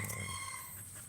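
A chicken clucks and calls close by in a brief, noisy outdoor moment with a steady background hum.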